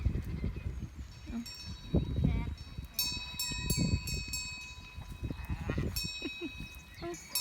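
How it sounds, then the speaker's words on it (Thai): Sheep on a sheep farm bleat repeatedly, several overlapping calls close by with strained, wavering tones, while someone speaks over them and a high steady whine runs underneath. "ดู แกะกันค่ะ แกะแกะแกะ"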